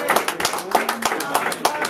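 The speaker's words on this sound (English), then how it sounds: "Clap that up!" A crowd claps at a battle rap event, sharp irregular hand claps cutting through loud, excited talk nearby.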